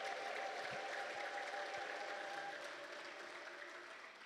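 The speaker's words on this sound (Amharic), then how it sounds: "እስኪ እልልታና ጭብጨባ ለጌታ" A church congregation applauds steadily at a Protestant service, a dense, distant wash of many hands with a faint high trill of ululation, slowly fading toward the end.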